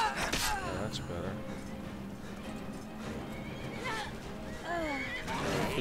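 Several whinnies from a horse in a video game, with hoofbeats clip-clopping beneath, fairly close and moderately loud, while someone talks in between the calls.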